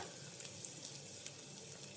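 Butter sizzling and frying in a pan while preparing vegetable white pasta, a steady close crackle with faint sharp pops and no talk.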